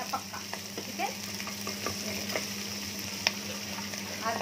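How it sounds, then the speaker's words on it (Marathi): Paneer frying in a pan while being stirred, with a steady soft sizzle and intermittent scraping stirs, close by, with a constant background hum. "ये देखो ये पनीर अच्छे से फ्राई हो गया"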